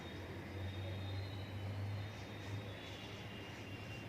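Steady, continuous drone of an aeroplane passing overhead in the sky, a low engine hum that holds at an even loudness throughout with no voices.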